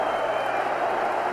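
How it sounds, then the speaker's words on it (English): The crowd at the 20th of May Stadium fills the air with dense, continuous applause and crowd noise for Ali during his 1974 heavyweight bout with George Foreman, as a commentator speaks. "Ali gets a hand from the tremendous crowd here at 20th of May Stadium."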